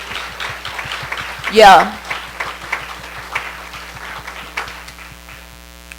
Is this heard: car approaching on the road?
no